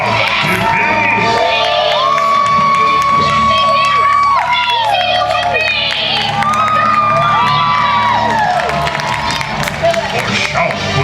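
A large theme park crowd at a villains show at Disney's Hollywood Studios cheers, whoops and shouts continuously, with loud children's voices and screams layered throughout at close range.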